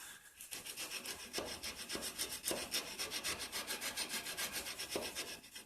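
Hand sanding the heel of a wooden cigar box guitar neck, with repeated rhythmic rasping strokes of abrasive on wood, close and steady, each stroke a short scratchy rub.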